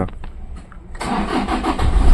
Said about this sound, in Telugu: ఇంజిన్ కానీ ఆన్ చేశాను